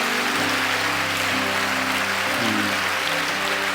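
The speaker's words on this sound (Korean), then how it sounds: "그 위대하신 우리 주님께 다시 한번 영광의 박수 드리겠습니다" A church congregation claps together in a dense, steady roar of applause that holds from start to finish, with music sounding underneath.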